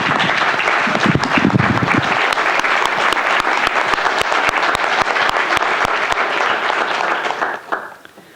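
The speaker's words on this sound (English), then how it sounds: "if we could just give her a round of applause" Sustained applause fills a council meeting chamber as the audience claps for a student, dense and steady for several seconds before tapering off at the end.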